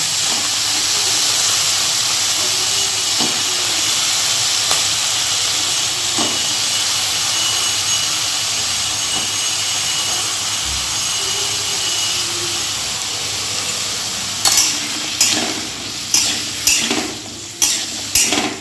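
Potato pieces fry in a pan with a steady hiss and sizzle, broken by scraping stirs and clinking utensil strikes that grow more frequent and louder near the end; no voices.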